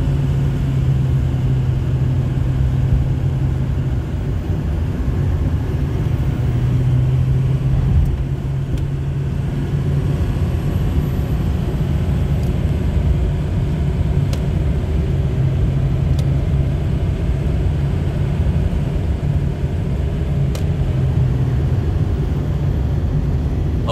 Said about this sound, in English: Let's go ahead and get on the highway here. Get it up to some highway speeds,